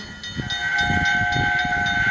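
A steam train rolls past in a railway video game, its long steady whistle sounding loud over rhythmic chuffing and hissing, with no voices.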